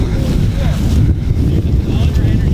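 Wind gusting across a dry open field dotted with dandelions near Bristol, roaring steadily and buffeting the microphone with a loud, low, unbroken rumble throughout.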